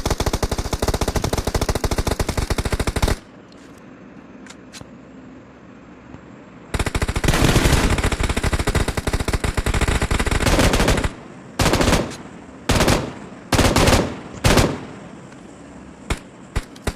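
A .50 cal machine gun in the PUBG Mobile video game fires loud, sustained bursts at close range, pausing for several seconds, then rattling again in long streams and short choppy volleys.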